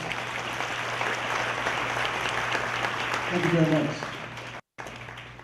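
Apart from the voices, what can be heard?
audience applause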